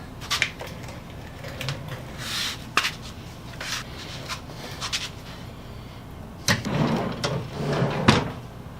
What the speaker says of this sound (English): let's try the drawer again.